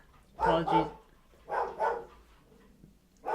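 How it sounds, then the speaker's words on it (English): Dogs barking indoors: two separate bursts of a couple of quick barks each, fairly close and loud, with quiet pauses between and no talk over them. "apologies for the dogs."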